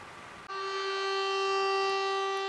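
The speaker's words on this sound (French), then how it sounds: "les sirènes de la ville ont retenti" Civil defense sirens wail across the city of Arras in a commemoration ceremony, a steady sustained multi-tone blare rising after a brief noisy start and holding loud and unbroken.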